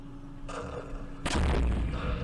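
Sniper gunfire in the Vietnam war game Campaign Series Vietnam, Battle of Hue, heard as a sudden loud blast at about 1.3 seconds that stays heavy and booming to the end, after a quieter stretch of game ambience.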